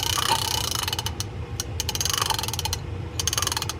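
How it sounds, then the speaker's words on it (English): Spool of a Roddy fishing reel being cranked, giving bursts of rapid ratcheting clicks with a faint grinding noise underneath, close and alone with short pauses between turns. "It's got some kind of spool noise towards the bottom."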